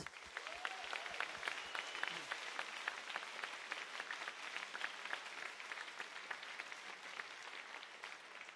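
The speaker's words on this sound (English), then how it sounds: "please give a big round of applause for everyone who participated" A large crowd at the HackZurich 2017 hackathon closing ceremony applauds all the participants, a dense, sustained roar of clapping heard from a distance and fairly faint, steady for several seconds.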